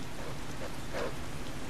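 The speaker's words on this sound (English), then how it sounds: "It's hard to say with the storm. These southern rains." Steady rain falls through a storm in the video game Skyrim, a continuous dense hiss at a constant level, with no voices over it.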